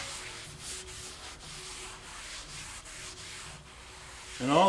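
Repair compound from a leather repair kit being wiped onto leather gives soft, close rubbing strokes in a steady back-and-forth rhythm, fairly quiet throughout.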